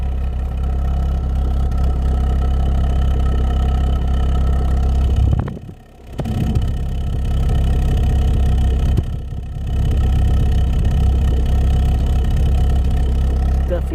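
A Ford KA Limited Edition 1.2 engine idles with a steady low rumble. The idle stumbles and dips once clearly midway and again more lightly later, in keeping with a misfire.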